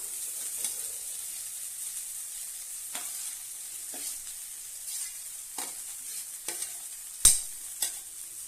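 Millet (kambu) semiya frying in a pan with sautéed onions and chilli, a soft continuous sizzle punctuated by sparse scraping strokes of a spatula, one sharper knock near the end.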